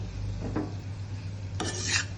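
A spoon scrapes through coriander powder and spices in a pan on a low gas flame, the base for a fish curry with cauliflower, potato and tomato. Two short scraping strokes sound over a faint steady hum.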